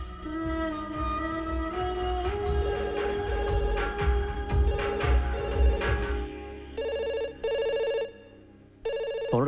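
A telephone rings in a Malayalam film scene, its electronic ringtone rising over music and then sounding in repeated loud bursts with short gaps between them.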